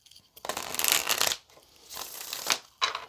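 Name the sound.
shuffling tarot cards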